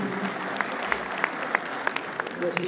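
A hall audience at a tourism forum in Meknes claps for a professor as he is introduced, a short burst of steady, dense applause with a few sharper individual claps standing out.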